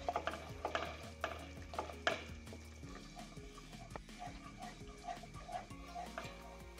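Whisked yogurt goes into fried onions in a pan for dhaba-style egg curry, followed by a soft sizzle with a quick run of spoon clinks and scraping strokes from repeated stirring.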